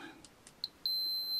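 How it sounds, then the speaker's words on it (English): A Fluke multimeter gives a short chirp and then a steady high continuity beep that starts and holds, faint and close, with no talking. "but the beep sound would be okay."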